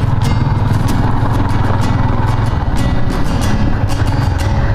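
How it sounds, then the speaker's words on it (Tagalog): A motorcycle engine drones steadily and loudly on the ride to a Bulacan campsite, with rattling clatter and bumps from a rough track. "Buti na lang malakas ang ating motor."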